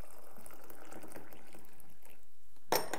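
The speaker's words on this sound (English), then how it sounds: "I'm just going to pour my water" Hot water is poured over black tea leaves, a soft liquid trickle and splash that ends in a brief louder burst of pouring, fairly faint overall with no talking.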